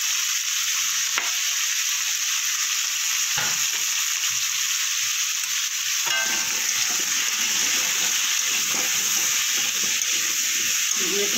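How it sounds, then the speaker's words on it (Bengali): Potatoes fry with turmeric and salt in a pan, a constant hissing sizzle punctuated by a few brief spatula clicks and stirs. "আলুগুলো আমার ভাজা হয়ে গেছে"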